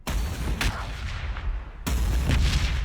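Basilisk artillery fires in Warhammer Battlesector, with two heavy booming shots, each followed by a rumbling tail and a crackling burst of impacts.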